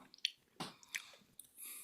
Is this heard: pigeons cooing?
no